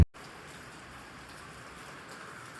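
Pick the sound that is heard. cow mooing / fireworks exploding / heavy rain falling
heavy rain falling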